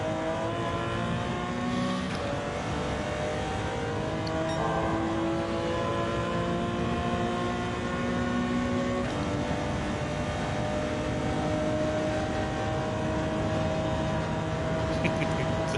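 Engine of a car heard from inside the cockpit in Gran Turismo 7, played on a G29 wheel: a continuous loud drone that rises and falls in pitch as the car accelerates and shifts through the gears.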